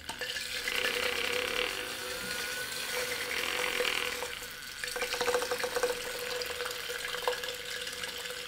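Makeup brush spinner whirring in a bowl of cleaner water, a steady motorized hum with splashing, swishing water that rises and falls in bursts before settling.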